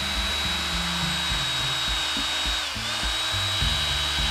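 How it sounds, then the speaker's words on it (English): A small rotary tool drills a screw hole in pistol grips, whining steadily at high speed, its pitch dipping briefly under load before steadying again, close and loud throughout. "I'm going to take and drill the screw mount that goes between the grips"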